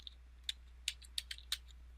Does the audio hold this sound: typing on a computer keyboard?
yes